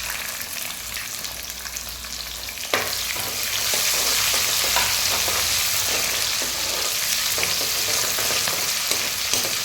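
Onions frying in a pan for a dal and rice dish, a steady close sizzle that jumps louder after a few seconds and holds, with occasional stirring clicks and no talk.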